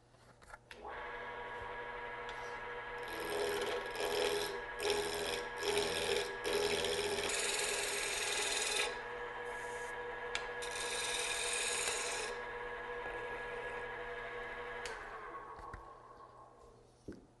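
A wooden spindle is rounded on a lathe with the tailstock in place: a sustained, fairly quiet scraping and rasping of the cut over a steady motor whine, swelling in the middle and easing off at the end.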